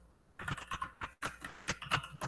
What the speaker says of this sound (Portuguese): aqui eu vou digitar Olá Mundo